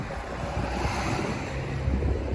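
Steady wind rushes and buffets the microphone in a continuous low roar, with no voices.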